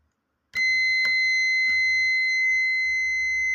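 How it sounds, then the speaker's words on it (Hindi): A buzzer on a three-phase contactor circuit switches on abruptly and sounds a steady, loud electronic tone that holds unbroken to the end, with a few faint clicks and low hum beneath it. "बजर शो कर रहा है,"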